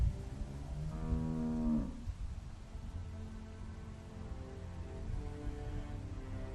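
A cow in The Walking Dead video game lets out one drawn-out moo lasting about a second. It sits over a steady low ambient hum that carries on quietly afterward, with no one speaking.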